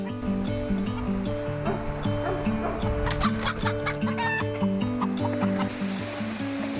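Several chickens cluck and squawk in an overlapping, busy chorus, close by and steady throughout, with sharp higher calls breaking through.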